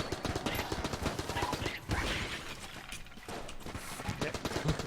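Rapid AK fire in Enter the Gungeon, a steady stream of quick shots running throughout at moderate volume, mixed with other game sounds.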